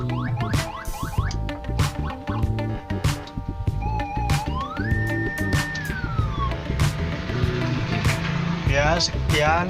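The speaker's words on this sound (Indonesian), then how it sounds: "Mohon maaf, sirene patwal." A police escort siren plays through a 15-watt TOA horn speaker, giving a short rising and falling wail in the middle of a busy mix of other loud tonal sounds and sharp clicks.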